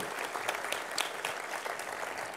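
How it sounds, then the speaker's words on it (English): Audience applause for graduating students at a graduation ceremony, a steady wash of many hands clapping at moderate volume throughout with no voices over it. "can I just give a round of applause for our students again?"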